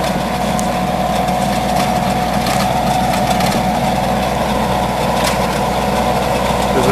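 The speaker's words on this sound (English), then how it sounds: "This is a Howard rototiller." A Howard rototiller, about 48 inches wide, mounted on a 35-40 horsepower Kubota tractor, its engine running at a steady idle with a constant low rumble throughout, close and unbroken, no voices.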